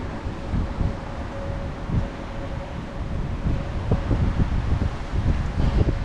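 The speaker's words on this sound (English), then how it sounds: "It's very windy and the camera is buffeting a bit." Wind buffets the microphone in rough, low rumbling gusts, swelling and easing unevenly, with no one speaking.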